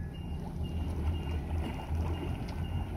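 A boat motor runs steadily after being shifted into gear during jetty construction work, a continuous low rumbling drone with a slightly fluctuating level and no voices.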